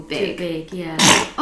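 A single sharp, loud sneeze bursts out near the end, just after a person says a few casual words and just before they start talking again.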